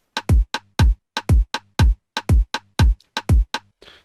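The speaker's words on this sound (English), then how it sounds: "this is just a kick and a rim shot for the 3-3-2" A kick drum and a rim shot loop a 3-3-2 rhythm: sharp, punchy hits land in uneven groups of three, three and two. They repeat cleanly and loudly with no other sounds.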